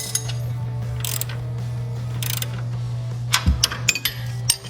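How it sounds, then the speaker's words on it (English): A ratchet tightens a bolt on the upper control arm of a 2007-2016 Chevrolet Silverado 1500, giving brief clicking bursts over a steady low hum. A metal knock and a few clinks come near the end. "We're gonna move over to this side and we're gonna tighten up this side."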